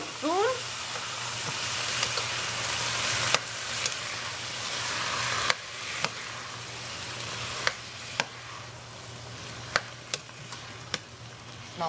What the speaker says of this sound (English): I'm just going to let this hang out and keep kind of stirring it, let it saute up